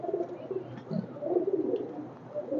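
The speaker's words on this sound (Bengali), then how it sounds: "প্রথমেই দেখাইতে চাইতেছি এটা, এই যে সাদা কবুতর।" Domestic pigeons coo steadily in a loft where a white pigeon is shown, the soft rolling calls repeating close by with no talk over them.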